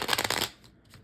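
Tarot cards being shuffled by hand, a quick flurry of crisp riffling flicks for about half a second, then a couple of faint card taps, close up.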